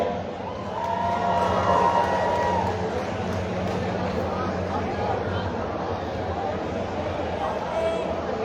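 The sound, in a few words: crowd cheering at a raceway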